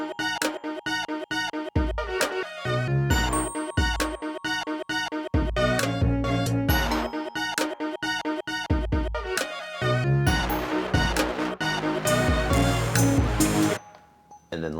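A bright Balafon Bright preset from Ableton plays a pretty, plucked mallet-like line inside a full beat with drums, loud and steady, pausing briefly near the end before a final hit.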